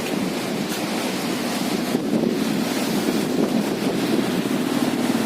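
Strong monsoon wind roars steadily across the microphone at a fish port in Pasacao, Camarines Sur, while heavy ocean waves crash and surge continuously, a loud, unbroken wash of noise with no voices.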